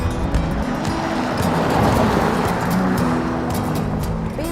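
A 2013 BMW 7 Series ActiveHybrid 7 saloon on the road, a steady broadband rush of tyre and wind noise with a low engine hum underneath, continuous and fairly loud throughout.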